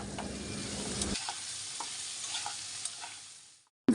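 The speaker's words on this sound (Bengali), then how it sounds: "এখন গাজর আর বরবটিগুলো দিয়ে দিচ্ছি আর সাথে একটু টমেটো দিয়ে দিলাম" Carrots, long beans and a little tomato stir-fry in a hot pan, a steady close sizzle broken by several scraping stirs before it cuts off abruptly near the end.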